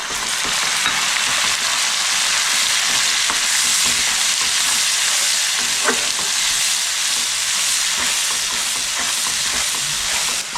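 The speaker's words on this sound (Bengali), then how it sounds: "পেঁয়াজ বাটাটা দিয়ে আমি 1 মিনিট মতো ভালো করে একটু কষাই নেব।" Onion paste is stirred while it fries in hot oil in a pan for a fish curry, giving a loud, unbroken sizzle with faint scraping from the spoon throughout.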